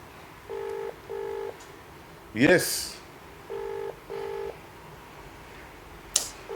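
A telephone rings out on a call to someone in the building, as a repeating pattern of paired ringback tones. A loud burst of noise interrupts it, a voice briefly speaks and a sharp click follows.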